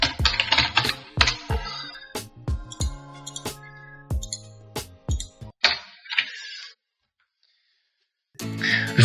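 Quick bursts of keystrokes on a computer keyboard while renaming a layer group in Photoshop, crisp close clicks in uneven runs with short pauses, stopping for a silent gap before another flurry at the end.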